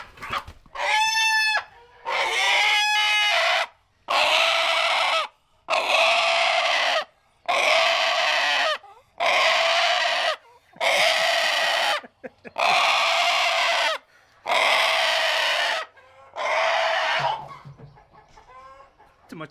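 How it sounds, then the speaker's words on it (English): Farm chickens are caught one by one, giving loud, close bursts of frantic squawking and clucking in repeated pulses separated by brief quiet gaps, with some scuffling. "So now the fun part, catching the chickens one by one."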